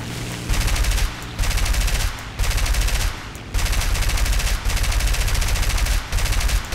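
In the War Thunder video game, aircraft machine guns fire in a series of loud rattling bursts, about six sustained volleys separated by short pauses.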